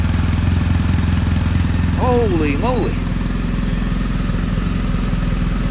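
A BMW R1250GS boxer motorcycle engine idles with a steady, even thrum close by while a person exclaims briefly over it.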